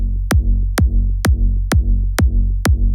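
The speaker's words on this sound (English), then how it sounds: "The original kick sounded like this" Big room kick drum sample played in FL Studio, seven punchy booming kicks repeating at a steady four-on-the-floor pace, each with a sharp click and deep pitch-dropping thump, loud and alone.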